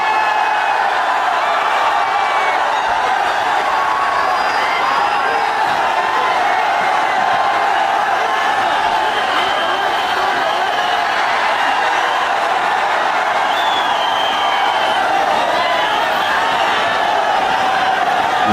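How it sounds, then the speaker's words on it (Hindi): A large crowd in Dongri greets Munawar Faruqui, a loud continuous roar of voices and cheers filling the street without pause. "कितना भीड़ है बाप"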